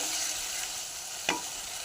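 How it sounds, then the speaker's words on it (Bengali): A steady soft hiss of spice paste cooking in a pan for a Bombay duck bharta, with a single quick spatula scrape partway through, heard close and quiet. "এই মশলাটা কষে আসে, এটা তলা লেগে যায়।"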